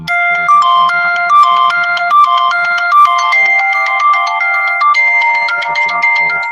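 An unwanted junk call sets off a loud phone ringtone, a bright electronic tune of stepping notes repeating in a steady loop with no one speaking over it.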